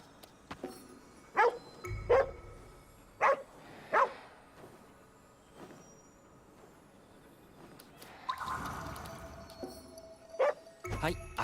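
Dog barks from the video game Ghostwire: Tokyo ring out as several short, sharp yaps in two pairs, close and clear, with a faint jingle and a louder burst of noise near the end.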